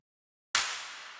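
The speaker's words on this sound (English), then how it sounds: "And the whip clap sounds like this." A whip-clap sample for electronic dance production: one sharp, bright crack that hits suddenly, then trails off in a long, airy reverb tail, isolated with nothing else around it.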